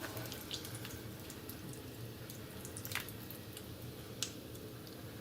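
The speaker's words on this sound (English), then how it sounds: "So next what we're going to add is the dressing." Dressing is poured onto a chickpea salad in a large bowl, giving a soft, faint liquid trickle with a few small wet squishes and clicks, close and quiet, with no talk.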